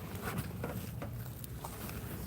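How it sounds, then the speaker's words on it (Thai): Rain falling steadily outdoors during a live stream, a continuous soft patter with scattered light drips, fairly close and even throughout. "โอ้ยฝนตก"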